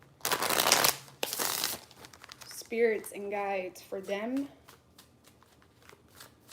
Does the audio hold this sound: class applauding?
no